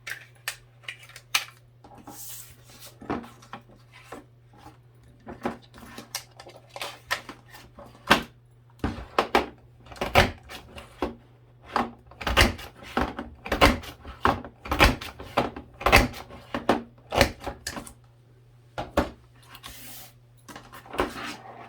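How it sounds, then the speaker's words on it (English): A border maker cartridge cuts through a mat, producing a long run of sharp clicks and snapping knocks close by, irregular at first and then coming quicker and denser with a low steady hum underneath. "Now we're going to cut the bottom using the same border maker cartridge."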